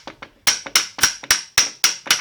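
Hammer striking a chisel to drive a Volvo S60R front strut part into place, about ten sharp metallic taps in a steady rhythm, close and loud with no talking.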